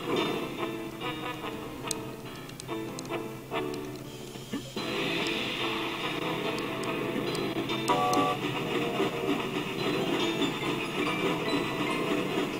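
Train in the video game MediEvil, a mechanical chugging and rattling with steamy hiss that starts in clanking bursts and settles into a steady loud rumble.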